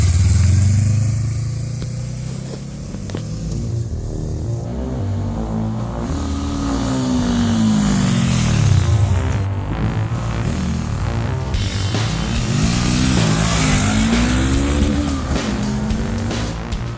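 A 2016–2017 Honda CB500F motorcycle engine revs repeatedly while riding, quickly hitting its short-range limiter, pitch rising and falling in quick bursts, loud and close with steady road noise underneath.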